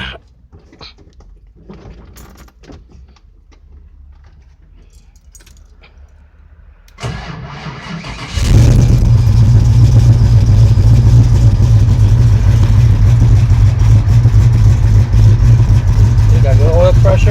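A 1980 Chevrolet Malibu Classic wagon, fitted with a new throttle body and still needing a tune, cranks and catches after a few quiet seconds of handling sounds, then settles into a loud, steady, close idle.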